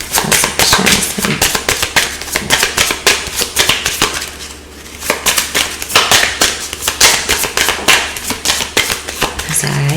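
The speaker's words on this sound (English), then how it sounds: "Sorry, I shuffle my cards hard," Tarot cards shuffled hard by hand, a dense run of quick sharp taps and riffling snaps, loud and close, with a short lull near the middle before the rapid clatter resumes.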